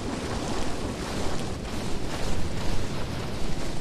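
Rushing, broadband water sound in the video game Lethal Company, a steady wash like surf or flowing water that holds loud and continuous throughout, with slight surges and no speech.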